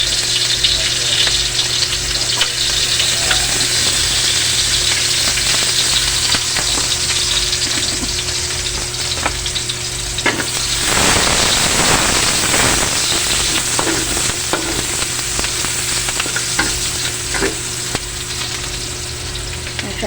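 Onion and garlic sautéing in hot oil for pork sinigang give a steady, fairly loud sizzle and fry hiss, with a brief burst of stirring and scraping in the middle.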